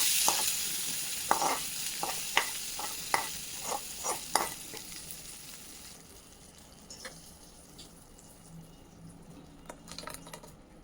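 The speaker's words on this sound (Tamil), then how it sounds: "நல்லா வெடிக்க விட்டு தாளித்து அந்த தயிரில் மோரில் கொட்டிடலாம்" Mustard seeds and spices for a cucumber tambuli tempering crackle and pop in hot oil, with sharp repeated spluttering bursts early on that thin out into a softer sizzle.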